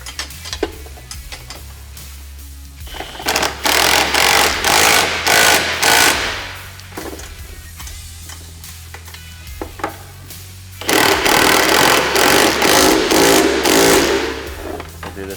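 A power tool fully tightens the bracket hardware on a SuperATV Workmaster rear bumper for a Honda Pioneer 1000-5, in two loud, rattling bursts of a few seconds each, separated by a quieter pause.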